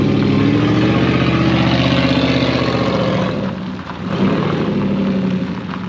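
A car with rusted-out exhaust and its mufflers cut off idles loudly in first gear with the revs held slightly raised, giving a raw, throaty drone that dips briefly before rising again.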